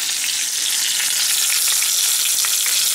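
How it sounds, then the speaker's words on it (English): Chicken roulade pan-fries in hot oil, producing a loud, dense, unbroken sizzle with fine popping crackles right up close and no talking. "the pan fry, same thing. We're gonna fry them,"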